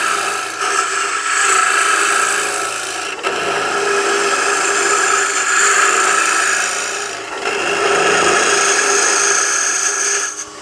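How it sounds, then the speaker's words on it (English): A Hunter Viceroy scraper-style tool cutting wood on a lathe while a box is turned, giving a steady, loud rasping hiss that runs continuously with a few brief dips as the tool shifts. "The tool that I like to use is the Hunter Viceroy. It's a scraper, but it's actually cutting instead of scraping."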